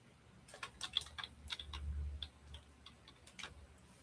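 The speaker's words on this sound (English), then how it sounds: "It probably will help if I type in the right thing." Fingers type on a computer keyboard in irregular quick bursts of light clicks, fairly faint and close, with no talking.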